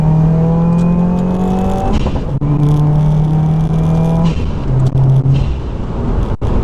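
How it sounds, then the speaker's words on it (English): A 2015 Subaru WRX engine with a lightweight flywheel revs hard, climbing in pitch then dropping briefly as it shifts up through several gears in quick succession, loud and close. "I'm just banging through these gears"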